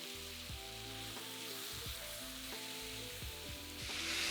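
Marinated beef steak fries in a wok of hot sunflower oil over high heat, a dense continuous sizzle that swells near the end, with steady tonal music playing underneath.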